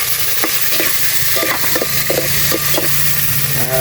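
Tomatoes sauté in hot oil in a pan, a continuous loud sizzle with repeated scraping stirs of a spoon or spatula across the pan.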